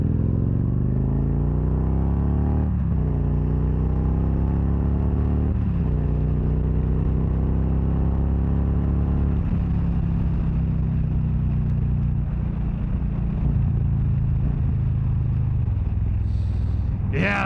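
A 2013 Victory Cross Country Tour motorcycle engine idling loud and close, then revved several times in rising and falling sweeps before settling into a steady rumble, with a short higher noise at the end.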